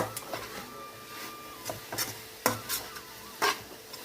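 Sugar syrup is stirred in a pan on a low flame: a soft continuous simmering hiss punctuated by several scraping, clinking strokes of a spoon against the pan, close and fairly quiet.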